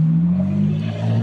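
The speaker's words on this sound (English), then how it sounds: "So that's the pickup truck in question." A pickup truck engine revving, played back from a recording, giving a steady, loud low growl with a slight rise in pitch over a brief moment, without talk.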